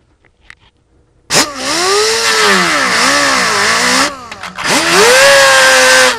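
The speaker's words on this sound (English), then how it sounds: "right now we're gonna sand this down to bare metal" A power tool sands a painted car strut tower down to bare metal under the hood, a loud whirring grind that starts abruptly, wavers in pitch as it bears on the surface, pauses briefly, then resumes.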